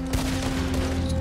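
A Gatling gun in Red Dead Redemption 2 fires a dense, continuous rattling burst, loud and close, filling the whole stretch with no voices over it.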